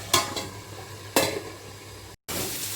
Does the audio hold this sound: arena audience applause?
no